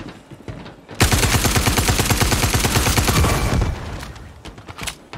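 Rapid automatic gunfire in Star Citizen bursts in loud and close, a steady stream of shots lasting about three seconds before tapering off to a few scattered reports.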